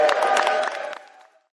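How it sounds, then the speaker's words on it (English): A crowd at a Washington state political event applauds and cheers for a state senator and a state representative, a short loud burst of clapping with raised voices that quickly dies away. "Give them a huge round of applause."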